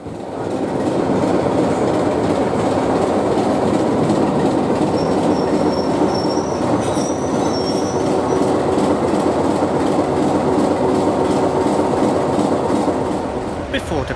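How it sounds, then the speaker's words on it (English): Diesel locomotive D7629 pulls away with a train, a loud sustained rumble and rattle of wagons rolling close by, with a faint high squeal of wheels partway through. "D7629 depart with the Rottenstall train."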